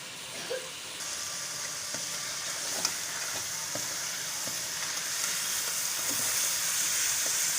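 Chicken fries in a pan for aloo chicken, a steady close sizzle with occasional clicks and stirring taps, the hiss growing slightly louder toward the end, no talk.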